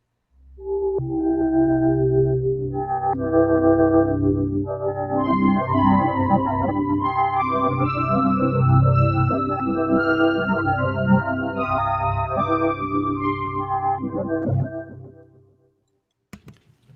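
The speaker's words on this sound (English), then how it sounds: "what you heard was a bit of an underlay of a pad type sound" A soft synthesizer pad swells in and sustains, with a brighter synth line layered on top, building slightly before fading out near the end.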